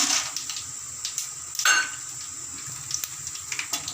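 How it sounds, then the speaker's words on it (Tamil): Mustard seeds, urad dal and chana dal fry in hot oil with a faint steady sizzle, a brief clink of a utensil against the pan partway through. "கடுகு போட்டுக்கும், உளுத்தம்பருப்பு போட்டுக்கும், கடலைப்பருப்பு போட்டுக்கும்."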